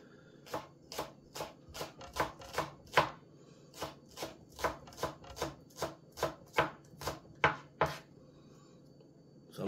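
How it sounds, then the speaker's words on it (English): A knife chops the whites of green onions on a cutting board, around twenty crisp, evenly spaced knocks close by, ending in silence. "I will just chop up some whites from the green onion"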